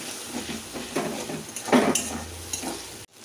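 A coriander and cumin spice paste with chili water is stirred and fried in a pan. A close, loud sizzle is broken by repeated scraping strokes of the spoon, then cuts off abruptly.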